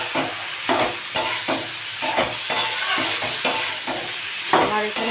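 Snake gourd stirred and frying in a pan, a steady sizzle with repeated scraping strokes of a spatula against the pan at an irregular rhythm, close and fairly loud.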